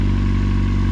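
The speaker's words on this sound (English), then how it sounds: "Give it a little, it's still cold, but give it a little gentle rev here." A cold Yamaha motorcycle engine given a gentle rev, producing a loud, steady, close throaty drone that holds evenly throughout the short clip.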